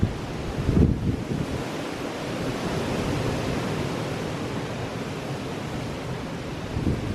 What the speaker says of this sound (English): Oh, sounds of water.